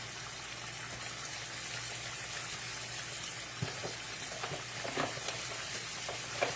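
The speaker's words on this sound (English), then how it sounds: "Y'all know you frying fish, you got to keep it moving." Catfish fillets and salmon fry in hot oil, a steady close sizzle with stirring clinks and scraping sounds growing busier toward the end, no talking.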